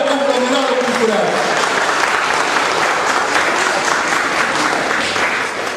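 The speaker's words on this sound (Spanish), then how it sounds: "Un aplauso para Conglomerado Cultural." Sustained audience applause fills a school singing contest hall, a dense steady wash of many hands clapping at constant loudness throughout, with a few voices briefly audible at the start.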